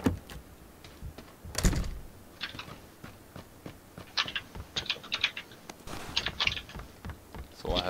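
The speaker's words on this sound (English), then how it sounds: "closing the door so I know when someone's come in" A door swinging shut inside a building in the battle royale game PUBG gives one sharp, loud knock, surrounded by a scattering of small clicks and taps from nearby.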